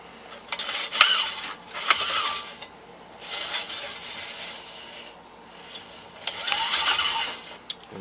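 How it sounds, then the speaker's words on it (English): A Briggs & Stratton starter pulley rewinds its rope, with three rounds of close scraping, whirring friction interrupted by small clicks and knocks. "let this pulley pull back in the rope"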